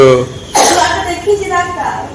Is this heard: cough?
yes